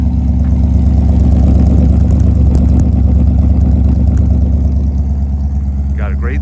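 A restored 1957 Ford Fairlane two-door hardtop with a 312 Thunderbird V8 idles steadily up close, a deep, even low rumble holding throughout, with faint background chatter and a brief voice near the end.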